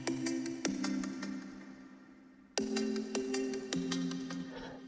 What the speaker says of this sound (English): Then I added to it another Alchemy patch called Knocking Echoes